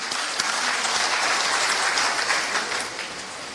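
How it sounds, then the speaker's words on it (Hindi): Loud, sustained applause fills a hall at a state Congress Seva Dal gathering in Bhopal's Manas Bhavan, dense clapping throughout that eases slightly at the end. "उनका अभिनंदन करते हैं जोरदार तालियों से हम लोग।"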